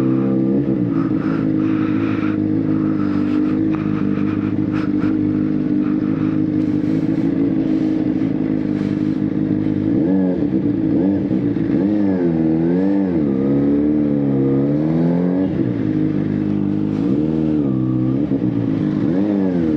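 A newly launched ZXJC 500RR motorcycle on a ride, its engine droning loudly and continuously, then revving repeatedly in rising and falling swells up close, with no voices.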